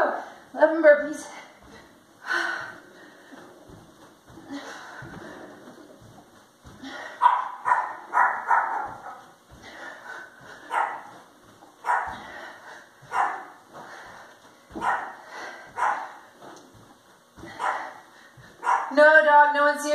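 A dog barks repeatedly in short bursts during an indoor home workout, with a person talking over and between the barks.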